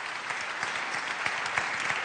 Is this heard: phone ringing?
no